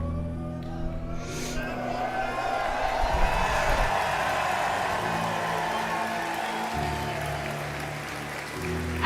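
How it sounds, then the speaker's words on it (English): Large crowd applauding and cheering at the Pokémon 2024 World Championships closing ceremony, a steady dense wash of clapping lasting throughout with occasional whoops. "Big final round of applause to these top trainers of the Pokemon 2024 World Championship"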